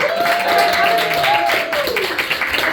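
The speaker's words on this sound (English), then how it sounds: "Yes, thank you for the applause." A crowd at a queer storytelling night claps and cheers, a lively continuous patter with a sustained vocal tone riding over it.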